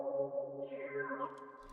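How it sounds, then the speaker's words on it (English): A soft, slowly evolving synth pad built from the Purity presets Marine and Slow Synth holds low root notes in a beat, with some low end cut by EQ. It sounds sustained and airy, with a tone that sweeps upward midway. "Alright, and then I added this pad."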